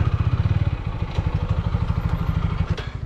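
A motorcycle engine runs steadily close by with a rapid, regular low-pitched thump on a trip to Khoiyachora waterfall in Chittagong, continuous and fairly loud with no talking.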